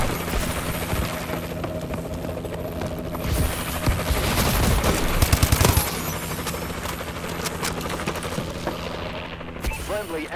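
Video game battle with a friendly Warbird aircraft overhead, dense rapid gunfire and engine roar filling the whole stretch, louder bursts in the middle, with radio-style voice callouts mixed in.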